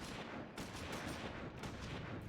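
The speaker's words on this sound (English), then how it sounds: "It sounds like a gunshot from Halo." Gunfire in Final Fantasy XIV: A Realm Reborn with a punchy shotgun-like blast, heard as dense, loud bursts layered over battle noise and music throughout.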